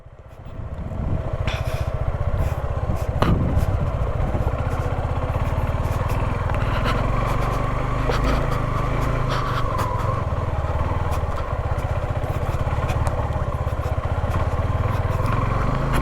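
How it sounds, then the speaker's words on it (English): A Suzuki V-Strom 250 SX entry-level adventure motorcycle with a six-speed gearbox cruises on a highway, its engine a steady loud drone mixed with rushing wind noise, rising quickly in the first second and holding constant throughout. "So now let's head to the highway and tell you how this performs on the highway."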